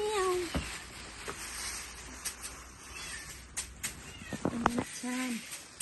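Several short, faint meows come from a cat, scattered through quiet room noise with clicks and light knocks, and a few voices speak softly in between.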